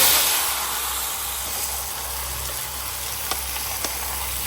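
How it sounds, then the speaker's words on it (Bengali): Tomatoes poured into hot oil with whole dried chillies, bay leaves and five-spice seasoning, giving a loud steady sizzling hiss that opens strongly and settles, with a few small pops and no talk. "ফোড়ন দিয়েছি 5 ফোড়ন, গোটা শুকনো লঙ্কা, তেজপাতা, ঢেলে দেবো টমেটো"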